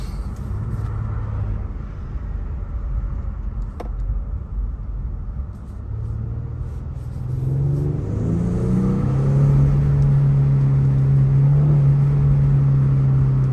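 A 2022 Genesis G70 with a 3.3L twin-turbo engine and AWD accelerates while holding a lower gear. Steady road and cabin rumble gives way to a loud, rising engine drone that climbs and then holds a sustained pitch.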